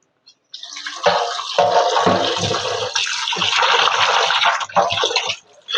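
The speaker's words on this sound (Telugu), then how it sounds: "ఉప్పు పసుపు కలిపి పక్కన పెట్టుకున్న చేపల్ని మనం శుభ్రంగా కడుక్కుందాం" Fish coated in salt and turmeric washed with water, giving close, loud splashing and gushing that runs for about five seconds before stopping.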